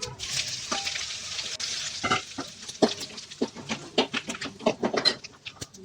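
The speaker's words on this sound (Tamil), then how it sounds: "மராட்டிய மொக்கு, அன்னாச்சிப்பூ, பட்டை, இவங்களை எல்லாத்தையும் நல்லா வறுத்து எடுத்துக்கலாம்." Marathi mokku, star anise and cinnamon dry-roast in a pan, producing close, irregular scraping and crackling taps as the whole spices are stirred, with no voices.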